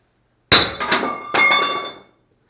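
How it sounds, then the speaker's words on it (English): A big maul strikes metal twice to straighten it, each blow a sharp ringing clang that hangs and fades, loud and close, outdoors on a cattle farm, no talking. "By hitting it with this big maul."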